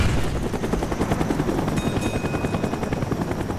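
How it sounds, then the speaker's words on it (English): Helicopter in the video game Call of Duty Black Ops, a steady loud rotor chop with dense broadband noise throughout and a thin whine entering partway, with no talk over it. "Where's the helicopter?"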